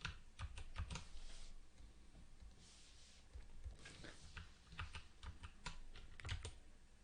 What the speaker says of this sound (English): I'm doing some keyboard shortcuts that don't seem to do what I expect.